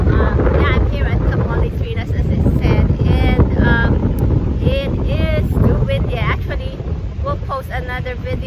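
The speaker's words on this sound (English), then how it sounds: "it is too windy" Strong wind buffets the microphone on a beach at Kamaole on Maui, a loud constant low roar lasting throughout, with someone talking over it.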